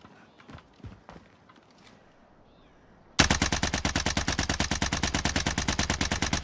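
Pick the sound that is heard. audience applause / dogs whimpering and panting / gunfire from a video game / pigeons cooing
gunfire from a video game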